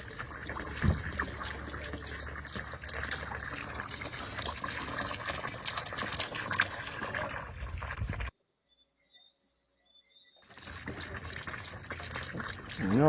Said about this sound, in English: Some pipe water.